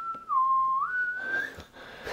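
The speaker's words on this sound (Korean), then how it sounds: "2층에서 필이 그걸 보면서 씩 웃으면서 휘파람을 부는데" A man whistles one clear, sustained note in a scene from the film The Power of the Dog; it dips in pitch, then rises and holds, fading as faint background noise comes up.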